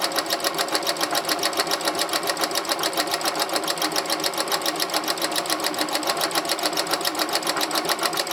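A sewing machine runs steadily at a quick, even stitching rhythm, sewing a quarter-inch seam on beginner patchwork of two-tone half-square triangle blocks, close and continuous with no talking.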